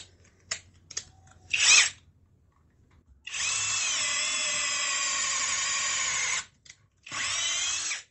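A CHIGO cordless drill with torque control whirs in short bursts, then runs a sustained high-speed whine for about three seconds before stopping and starting again, loud and close with no talking.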